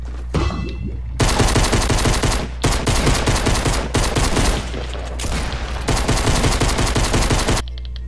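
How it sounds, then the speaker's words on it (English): Rapid bursts of practice gunfire in the Fortnite battle royale video game, loud dense volleys in several long stretches separated by brief pauses, with no talking. "Alright, now we're done with the practice shots."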